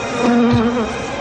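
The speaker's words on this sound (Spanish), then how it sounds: "Moscas, no puede ser." Loud, close buzzing of flies as a sound effect in a horror radio drama, a droning hum that wavers in pitch as the insects circle, heard alone without voices.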